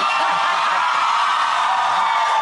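Studio audience at a chat show cheering and whooping, a loud sustained roar of yells and screams filling the room without pause.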